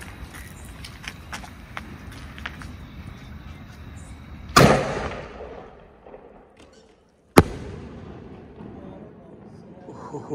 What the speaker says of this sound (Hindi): एक नंबर, बहुत जबरदस्त ब्लास्ट था यार